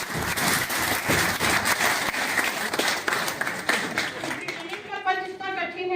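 Audience applause at a gathering honoring a hospital superintendent at SKMCH in Muzaffarpur: dense, sustained clapping from a crowd that tapers off near the end as a voice begins speaking.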